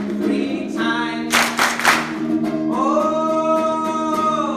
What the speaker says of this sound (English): So clap your hands three times.